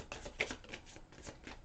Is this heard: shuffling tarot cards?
yes